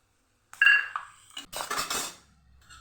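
A metal utensil clinks and scrapes against a dish while transferring fried peanuts into a bowl, a few sharp chinks followed by a longer rattling scrape, close and fairly loud.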